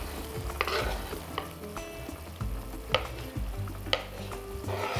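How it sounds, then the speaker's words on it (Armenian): Tomato pieces being stirred in a hot frying pan for a red soup, with a steady sizzle and soft scraping strokes of the spoon against the pan, some sharper clicks, close and alone. "այնպես խառնեք, որ լոլիկը շատ չտրորվի։"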